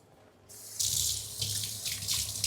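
Whole spices being rinsed under a running kitchen tap while cooking chicken biryani: water gushes steadily into a sink, starting after a quiet moment and continuing with splashing fluctuations.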